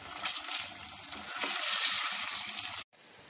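Liver (kaleji) fries in ghee with a loud steady sizzle close up, rising a little, then cuts off abruptly near the end.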